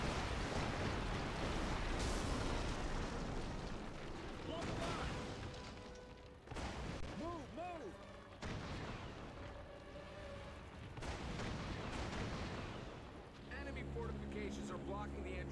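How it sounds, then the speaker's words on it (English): Artillery fire and explosions in the Captain America: Super Soldier video game boom as dense, continuous battle noise with rumbling blasts and game music tones, set under a voiced game dialogue. "Artillery incoming!"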